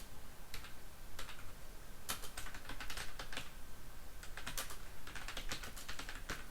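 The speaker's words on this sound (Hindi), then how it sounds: "तो इस तरह से आप टाइप कर लीजिए पहले सारी चीज़ें।" Keys clatter on a computer keyboard as text is typed into an MS Word practice document, coming in quick irregular bursts with short pauses, soft and close with no talking.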